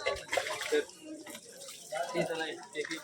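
Water drawn by jug from a stone kund at the Rajapur Ganga sacred springs, with a soft watery splash and trickle running beneath lively, overlapping talk from a group of friends.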